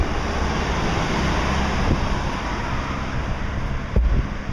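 Constant loud wind buffeting a microphone outdoors, a broad rumbling roar with occasional thumps, no voices.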